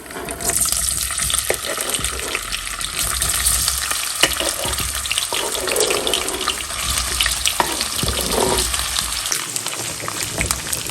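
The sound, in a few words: sliced sausages frying in oil in a pan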